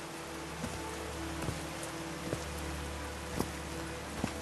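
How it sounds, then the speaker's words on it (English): Steady rain falls in the video game Call of the Sea, a constant close hiss broken by scattered louder drops striking a surface, with no voices. "These drops of rain are so refreshing."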